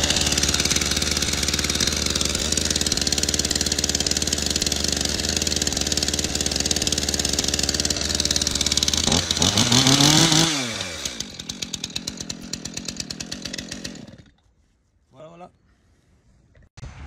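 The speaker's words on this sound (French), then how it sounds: "tu ouvres le starter, sinon tu vas noyer le moteur. Et maintenant, elle va démarrer forcé" A petrol chainsaw roars at full throttle with a steady loud engine drone, then revs rise and fall before it cuts out abruptly, followed by near silence and a few faint clicks.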